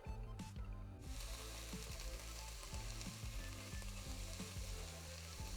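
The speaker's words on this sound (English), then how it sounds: "let's start with sweating off those onions" Onions sweating in a glug of olive oil in a big casserole dish, a steady close sizzle throughout with repeated scraping and stirring knocks, mostly low and continuous.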